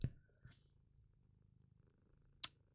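A domestic cat purrs faintly in a steady, low rhythmic rumble in a quiet room, broken by a few soft clicks and a sharp tap near the end.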